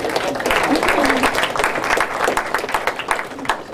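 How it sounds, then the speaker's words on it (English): A room of students at a marketing study-abroad meeting claps for a graduate assistant, sharp crowded applause at close range, fairly loud and sustained, with some voices mixed in. "So give her a round of applause"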